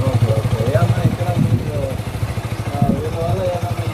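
A motorcycle engine idles steadily with a low, pulsing thrum during a roadside police silencer check, running continuously beneath close-up voices talking.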